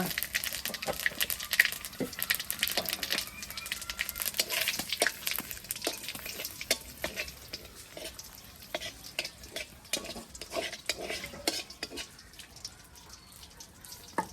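Bay leaf, dried red chilli and whole cumin seeds sizzle in hot oil in a village kitchen, a steady fine crackle with scattered sharp pops and stirring scrapes, fairly close and continuous with no talking.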